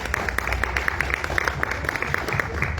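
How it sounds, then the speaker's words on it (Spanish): Applause from an audience at a Spanish-language book presentation, a steady mass of clapping held at moderate level for the whole stretch with no talk over it. "Para él pido un fuerte aplauso"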